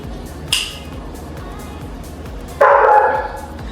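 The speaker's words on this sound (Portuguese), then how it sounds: "Não late não, moço." A dog gives two sharp barks, one short and one longer and louder, close by outdoors near the sea, against a steady background hiss.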